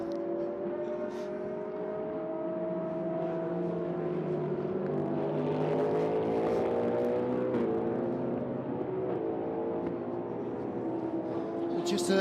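McLaren and BMW race cars racing side by side at the Qatar 1812 km endurance race, engines droning steadily with shifting pitch throughout, a constant layered roar with no clear pass-by peaks.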